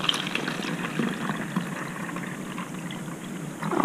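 Vinegar poured into a small container, a steady splashing, gurgling stream of liquid that stays close and fairly loud for a few seconds with no voices.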